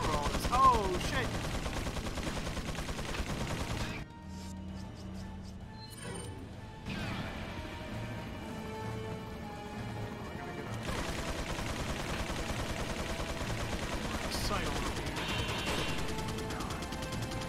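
Heavy gunfire from the ally Mike in Resident Evil 4, a dense continuous barrage of shots and crashes with a brief lull partway through, beneath a steady game soundtrack.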